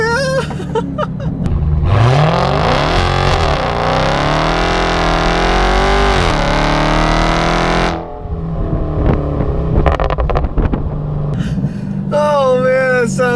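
A 2017 Dodge Charger Hellcat's 6.2-liter supercharged Hemi V8 roars loud and close through hard acceleration with wheel spin, revs sweeping up through gear changes, then drops before a lighter rise; excited voices exclaim over it.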